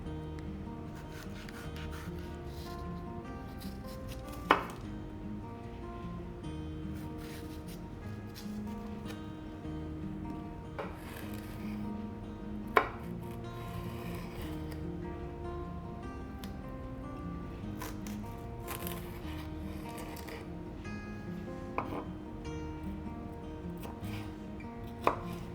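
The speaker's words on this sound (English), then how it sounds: "We're going to cut up our jalapenos." A knife chops jalapeños on a cutting board in a steady run of close, dull taps, with a few louder knocks standing out over a low background hum.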